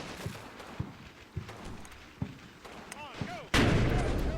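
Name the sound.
anti-tank gun firing in the video game Combat Mission: Fortress Italy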